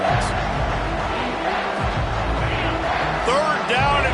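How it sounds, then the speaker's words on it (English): Stadium crowd at a football game on a third down, a steady loud roar of cheering and shouting sustained throughout, with a commentator talking over it. "this crowd will blow out a vocal cord to help this defense"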